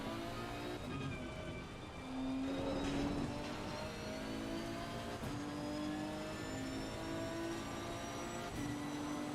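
Nissan GT-R GT3 race car in the Assetto Corsa Competizione racing game at the Hungaroring, a steady engine drone with rising and shifting revs and tyre noise, continuous and fairly loud with no talking.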